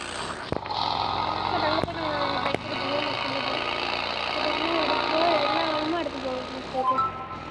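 A car engine idles steadily in the BGMI video game, a continuous low rumble running throughout, with a few sharp clicks and people talking over it.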